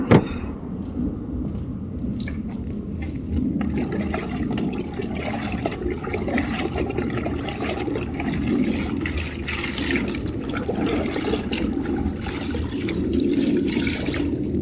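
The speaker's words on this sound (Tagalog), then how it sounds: "Paglawan ko lang ulit yung masahan kasi madumi." A dirty car-washing cloth is rinsed and swished in water, giving a steady, close sloshing and splashing that runs on without a break and with no talking.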